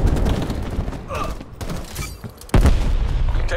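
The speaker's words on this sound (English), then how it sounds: "Throwing frag." A frag grenade bursts in Call of Duty Black Ops Cold War multiplayer as a sudden loud boom partway through, amid surrounding gunfire and battle noise.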